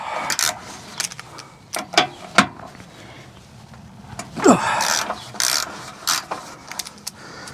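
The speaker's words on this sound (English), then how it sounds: "Right, let's get these two 18mm nuts undone" Ratchet wrench clicking while undoing 18mm nuts on a 2003 Volvo XC90 D5 engine mount: short bursts of close, sharp pawl clicks with pauses between, plus metallic clanks of tools.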